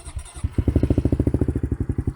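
A 2020 Honda CRF110F dirt bike with a Yoshimura exhaust idling up close, a rapid even putter of exhaust pulses that kicks in after a brief rumble and runs smoothly.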